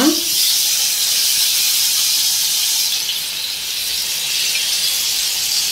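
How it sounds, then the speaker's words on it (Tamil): Fish frying in hot oil in a home kitchen pan gives a steady, bright sizzling hiss that runs unbroken and fairly loud throughout, with no voices over it. "இங்கே மீன் வறுக்க எண்ணெய் ஊற்றிட்டேன், மீனை போட்டுடலாம் ஒன்றுனா"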